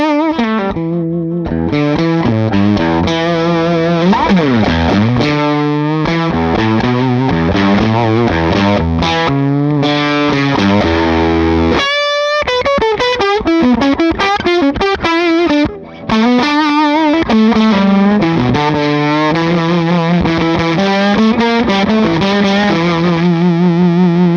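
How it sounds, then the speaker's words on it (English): An electric guitar played through a fuzz pedal alone: loud, saturated, buzzy chords and single notes ring continuously, with two short breaks near the middle. "let me try the fuzz by itself"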